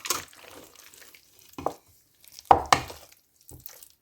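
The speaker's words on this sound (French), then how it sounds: "Je mélange juste tout ça bien." Spiced chicken is mixed by hand in a bowl, giving scattered soft squelches and wet slaps, with a few sharper, louder pats toward the middle and quiet gaps between them.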